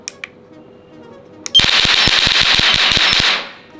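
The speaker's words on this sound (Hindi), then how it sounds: "सबको कॉलोनी में यही लगेगा भाई आपने पटाखे चला दिए, इतनी ज्यादा तेज आवाज आती है इसकी" A battery-powered electric remote firecracker goes off in a loud, rapid string of sharp bangs for about two seconds, close by, then cuts off after a couple of faint clicks.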